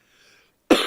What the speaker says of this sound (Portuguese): Epa, tossinha.